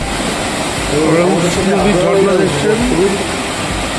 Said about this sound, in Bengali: দেখুন কি সুন্দর ঝর্ণাটা পড়ছে।